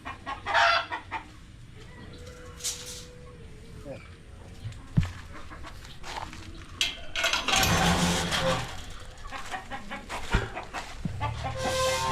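Chickens cluck and call in the foreground, with a rooster-like cry at one point, while a person talks intermittently over the farmyard birds.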